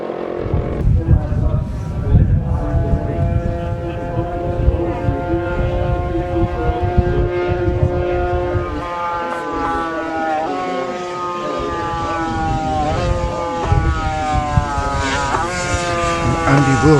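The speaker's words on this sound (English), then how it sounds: "is number 56, Ross Johnson, on another interesting machine, the 250 Royal Enfield" A racing Royal Enfield 250 motorcycle engine revs hard in a classic road race, its whining note climbing steadily in pitch as the bike accelerates, loud and close throughout.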